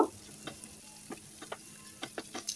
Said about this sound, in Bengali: তো পেঁয়াজটাকে হালকা ব্রাউন কালার করে ভেজে নেব।